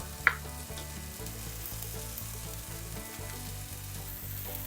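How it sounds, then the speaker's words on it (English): A hamburger patty and two strips of bacon fry in a pan, giving a steady, close sizzle throughout with one brief sharp spatter near the start and no talking. "While the meat is frying,"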